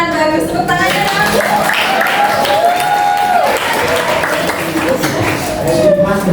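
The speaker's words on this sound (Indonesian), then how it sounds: "tepuk tangannya dong" Students clapping in a school classroom guidance lesson, a burst of close applause with children's voices and chatter mixed throughout.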